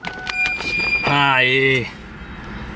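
An old Ford Mustang engine cranks and catches on the first try, settling into a steady loud idle for under a second before cutting back, with a voice exclaiming over it.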